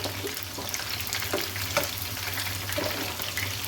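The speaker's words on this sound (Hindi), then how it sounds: "मैंने इसमें इतना चिकन डाला है कि जितना ये फ्राई हो जाए" Chicken strips fry in a pan over a medium flame, giving a steady, close sizzle with a low hum underneath and a few faint clicks of stirring.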